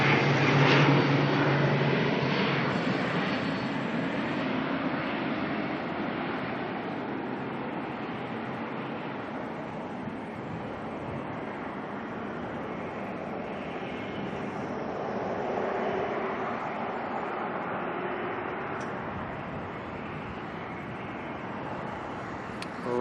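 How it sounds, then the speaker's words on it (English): An ATR turboprop airliner arriving from Napier at Auckland Airport, a faint, steady engine drone heard from a distance that holds for the whole stretch with little change. "ATR coming on in from Napier"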